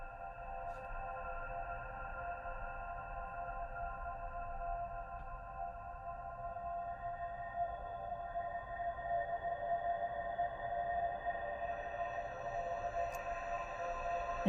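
Slow, sustained drone of layered tones, smeared and washy like a recording stretched in PaulXStretch, with a long reverberant tail and soft shifting movement.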